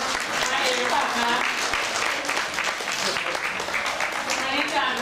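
Applause at a thank-you ceremony honouring lay temple stewards at Wat Buddhavihara, a dense, steady clatter of many hands clapping throughout, with talk mixed in beneath.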